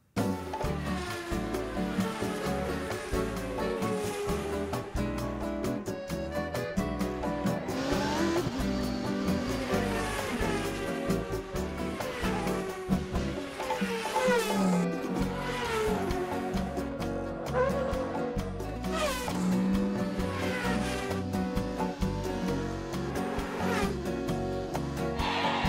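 Animated race cars roar through a Le Mans-style endurance race in Paris, with continuous engine drone, passing whines and occasional tire squeals layered under a busy mix with music.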